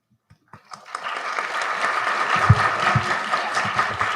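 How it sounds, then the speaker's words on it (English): Audience applause at a National Science Day celebration rises from silence into a dense, steady wash of many hands clapping, fairly loud and sustained for several seconds. "thank you very much for applause"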